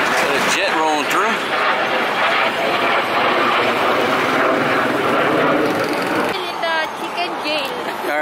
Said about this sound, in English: Got a jet rolling through.